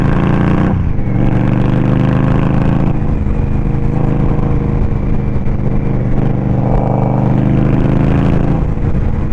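A 2023 Indian Scout Rogue motorcycle, a 100-horsepower, 545-pound cruiser, accelerates hard from a green light, its loud, close engine droning and rising through the revs with a steady throaty roar and no talking.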